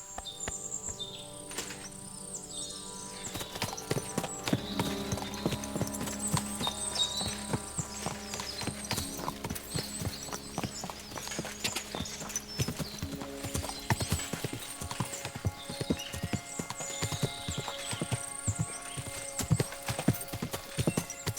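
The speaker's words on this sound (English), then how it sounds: "What a beautiful horse." Rapid horse hooves clip-clop steadily throughout in Kingdom Come: Deliverance II, with an occasional whinny and faint bird chirps over the game soundscape; no talking.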